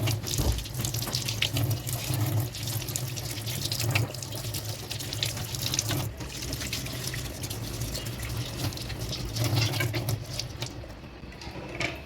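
Aloe vera leaves are rinsed clean under a running tap, producing a steady splashing gush of water into a sink with small surges and spatters as the leaves are handled, close and continuous without talk.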